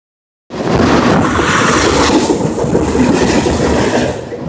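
A train rolls across a bridge near a fishing spot, starting abruptly and holding as a loud, steady, broadband rumble and rattle of cars close by.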